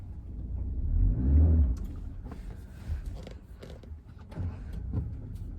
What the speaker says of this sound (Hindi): मैंने गाड़ी को फर्स्ट गियर में डाल लिया, मैं गाड़ी को आगे को चलाता हूँ।